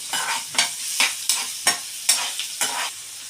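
Tomato being stirred in a hot pan for pav bhaji, a spoon scraping in repeated strokes about every half second over a steady sizzle, close and alone with no talk.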